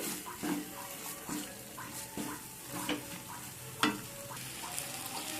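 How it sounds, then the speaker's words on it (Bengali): Spiced peas and paneer with yogurt being stirred in a pan over a low flame: repeated spoon scrapes and clacks in an uneven rhythm over a soft, quiet sizzle, close by, with no talk. "দিয়ে সব কিছুকে একসাথে এভাবে কষিয়ে নিতে হবে"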